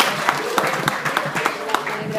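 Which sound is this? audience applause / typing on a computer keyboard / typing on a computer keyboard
audience applause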